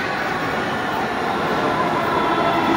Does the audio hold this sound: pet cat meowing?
no